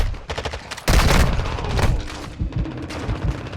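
Call of Duty gunfire in an online match: rapid bursts of automatic weapons, with a loud, close volley about a second in, followed by further scattered shots and echoing reports.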